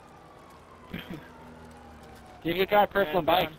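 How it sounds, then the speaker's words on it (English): Police sirens from an online car video game, sounding in a house, come as faint wails under a man's speech, with a brief burst of louder talk near the start and more talking in the final second. "those sirens are in my house in real life"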